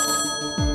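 A telephone rings in a home with a bright metallic bell tone, a single short burst with a brief pause inside it, loud and close, with no voices.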